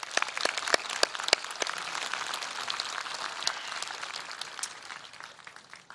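A crowd at a school graduation ceremony applauds the student speakers, dense clapping that starts brisk and full, then slowly thins and fades toward the end.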